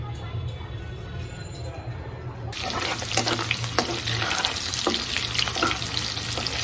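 Meat frying lightly in a pan, a quiet hiss that swells into a loud, steady sizzle with crackles and spatters partway through, heard up close with no talking.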